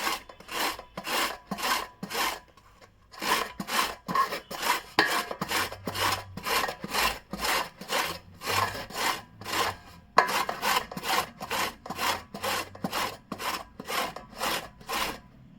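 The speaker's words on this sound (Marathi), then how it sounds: "तर हे गाजर असे आपण आता किसून घेणार आहोत" Peeled carrots being finely grated by hand on a grater, a steady run of quick rhythmic rasping strokes with brief pauses between bursts, close and moderately loud with no talking.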